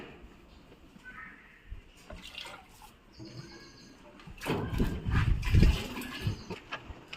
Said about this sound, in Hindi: अब देखिएगा किस तरह से मैं पानी में मिला रहा हूं इसे